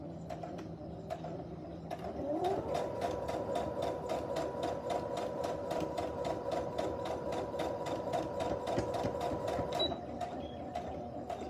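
Sewing machine running steadily while back-stitching a fabric face mask, a continuous rapid mechanical whir with a steady pulsing rhythm, close and fairly loud, rising in pitch early then holding until it stops near the end.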